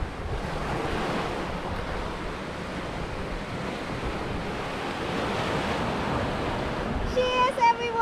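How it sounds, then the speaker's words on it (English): Sea breeze at a beach campsite at Cape Leveque, Western Australia, rushes steadily across the microphone with a broad, hissing roar of wind and surf, faintly rising and falling, with a brief clatter near the end. "Nice breeze here as well."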